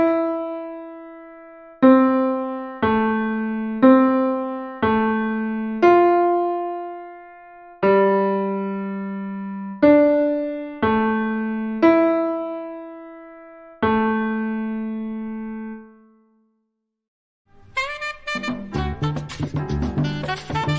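Piano notes are struck one at a time, each ringing out and decaying before the next, as hands alternate without overlapping; the melody ends in a brief silence before a denser passage starts.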